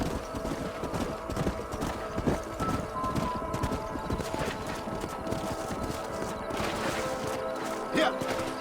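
Horses galloping in the Red Dead Redemption video game, a steady rapid clip-clop of hooves running continuously with an occasional whinny, close and fairly loud over game ambience.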